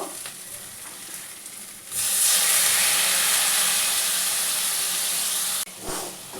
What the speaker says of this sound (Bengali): প্লেট ধোয়া জলটা দিয়ে এটা মশলাটাকে ভালো করে কষিয়ে নিলাম